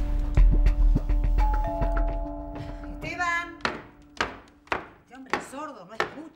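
A doorbell chimes repeatedly in a home, several loud ringing dings in a row toward the end, following a stretch of thumping and background sounds.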